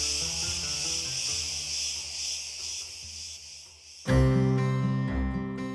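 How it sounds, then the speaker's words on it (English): Dense, steady insect buzzing of Cretan cicadas on a summer day, filling the whole stretch with a high shrill drone while a brief louder burst near the end adds layered tonal sounds. "the sounds of summer, the Cretan cicadas with their incessant,"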